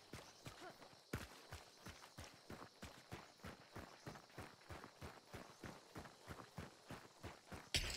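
Steady rhythmic hoofbeats of a horse clip-clopping at a quick pace in the video game Hunt: Showdown, even and continuous, fairly close, with faint talk underneath.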